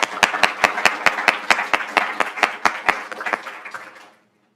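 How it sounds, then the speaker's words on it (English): Sparse, rhythmic clapping of a few hands at a community service award ceremony, sharp claps spaced evenly, thinning out and stopping just before the end. "Let's give a round of applause."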